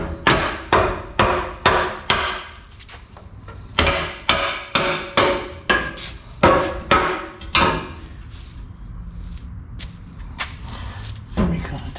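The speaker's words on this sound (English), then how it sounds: "Hammer. See if I can get this to move." Repeated sharp hammer blows on metal ring out in quick regular bursts, loud and close, while working a Dodge Dakota rear end loose, with a short pause of quieter scraping before a final strike.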